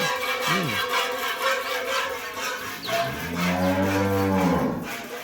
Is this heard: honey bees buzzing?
no